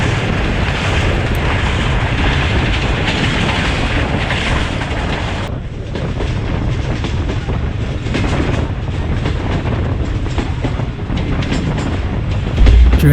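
Allama Iqbal Express running between Sialkot and Lahore, a loud close rumble of carriages with steady rhythmic clatter of wheels on track and some wind buffeting, no voices.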